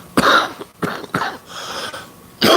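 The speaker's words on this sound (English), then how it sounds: "I just got back from China, and I've had this cough" A person coughs in several sharp, harsh bursts with brief pauses between them, close and loud, the last cough strongest.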